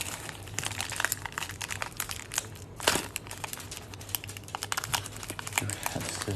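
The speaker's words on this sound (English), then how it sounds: "I can't seem to get this pack open" A hockey card pack wrapper being crinkled and fought with by hand, continuous close crackling and crumpling with sharp rustles and a louder tug midway, no talking over it.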